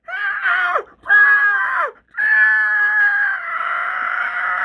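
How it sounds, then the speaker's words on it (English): Creatures from Tremors 2 screech in three loud, shrill bursts, the last one drawn out and fading, forming a chorus of harsh cries that is close and dominant. "From out of the darkness, another food scream sounds."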